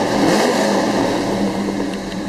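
A 1971 Chevelle Malibu SS with cowl induction revs loudly and steadily up close, its engine roar filling the whole moment with a dense, rough, sustained rumble and no voices over it.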